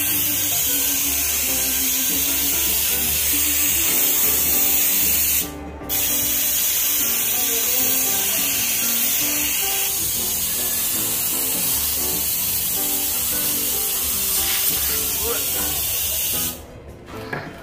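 A toy dental air sprayer blows a steady hiss of air over a child's pretend dental play, running nearly continuously with two brief pauses, while a voice talks over it.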